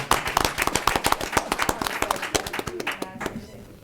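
A family applauds at a school board meeting: a burst of quick, sharp hand claps from a small group, thinning out and fading to quiet by the end.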